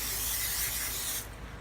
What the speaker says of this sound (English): However, you want to use some nice spray, right?